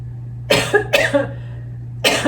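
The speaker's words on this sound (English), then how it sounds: "Oh my God, I'm going to cough again." Three sharp coughs, two close together and a third after a pause, near and loud above a low steady hum.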